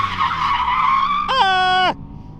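Toyota AE86 Corollas spin out on a Texas race track, one sharp tire skid squeal rising over engine drone and then cutting off abruptly, loud and close.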